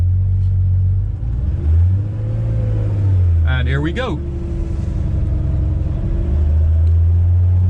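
A 1986 Porsche 911 wide-body's engine pulls hard in first gear, its deep rumble climbing steadily in pitch before settling, heard close up from inside the car while someone speaks briefly over it.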